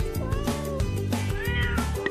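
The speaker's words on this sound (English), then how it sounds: "Cats." A cat meows several times in quick succession over a bouncy musical backing.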